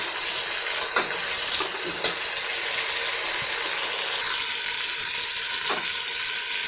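Steady sizzling and crackling of tomatoes frying in a pan, with a few soft scraping clicks from stirring.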